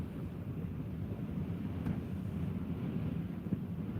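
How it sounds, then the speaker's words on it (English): Southwest wind blows steadily outdoors beside lake water during a bass fishing outing, a low continuous rumble buffeting the microphone with no talk. "The wind is coming in from the southwest."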